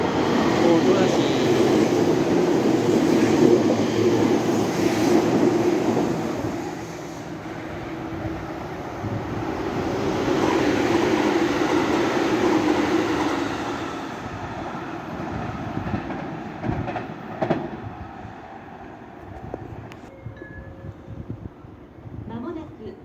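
A commuter train pulls into a station platform at Sanno near Otobashi, Nagoya, a long rumbling roar that builds and fades as the cars roll past, then squeals and clanks as it slows, with a voice speaking over it.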